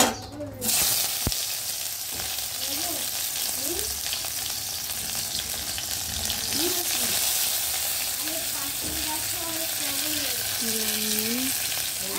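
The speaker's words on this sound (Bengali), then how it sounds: "ডাল করার জন্য আমি করলাগুলো ভেজে নেব" Bitter gourd frying in hot oil, a steady close sizzle running throughout with faint tonal sounds from a nearby voice or background scattered over it.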